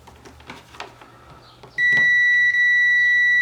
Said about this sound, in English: So there you go, low resistance and it's beeping.